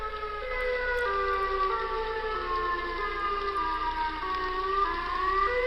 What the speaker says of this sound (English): It's a tornado siren.